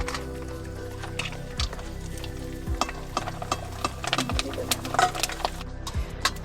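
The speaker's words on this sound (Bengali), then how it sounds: "দেখো শুরু হয়ে গেছে আমাদের আলু পাঁপড় ভাজা" Homemade potato chips sizzle and crackle in hot oil on a village stove, a steady bubbling bed broken by scattered pops and stirring clatter, moderately close with no talk.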